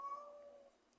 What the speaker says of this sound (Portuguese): Estou ouvindo aqui o miado da gata.